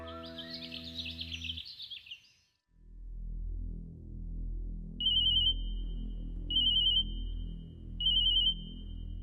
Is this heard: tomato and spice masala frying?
no